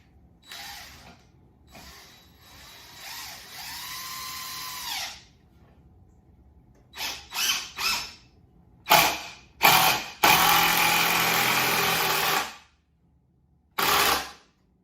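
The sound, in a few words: power drill driving screws into wooden balance beam legs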